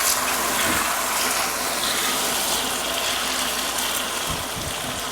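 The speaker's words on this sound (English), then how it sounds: "Wash my hands." Hands washed under a running kitchen tap, a steady loud gush of water splashing continuously at close range, with no talking.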